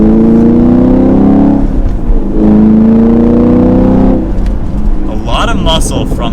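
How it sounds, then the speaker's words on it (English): A 2022 Chevrolet Camaro 2SS 1LE with a manual gearbox revs hard and accelerates from second gear in loud, rising sweeps, with a deep rumbling exhaust and crackling pops near the end. "I love the little pops and gurgles you hear on the exhaust"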